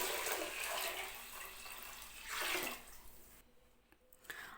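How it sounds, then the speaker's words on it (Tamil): Water pours steadily into a cooking pot with a hissing, splashing rush, surging briefly in the middle before tapering off; no talking. "அடுத்து தண்ணி சேர்க்கணும்"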